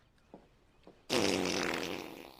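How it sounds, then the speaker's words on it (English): A loud, long fart erupts from an episode of The Good Place, a sudden blaring blast that follows a couple of faint soft taps and trails off gradually over about a second. "I have ruled the fart inadmissible as evidence."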